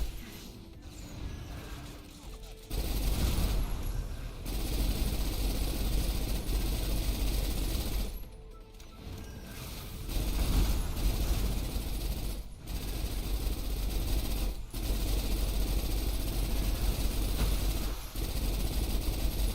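Rapid automatic gunfire in the shooter game Snowbreak: Containment Zone, long rattling bursts broken by short gaps, steady and mechanical in tone, with no talking.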